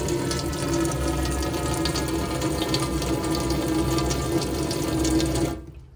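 Water runs steadily from a motorhome tap turned to the hot side, on a Burstner Elegance 591 from 2024, a continuous close rushing flow that cuts off abruptly near the end.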